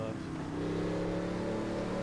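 GT1 race car in a Laguna Seca racing game, its engine droning steadily in second gear through the corkscrew without over-revving, a continuous close hum that holds at an even level throughout.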